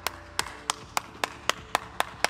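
Eight sharp, evenly spaced claps, like a single pair of hands clapping slowly in a steady rhythm, fairly close and alone with no talk.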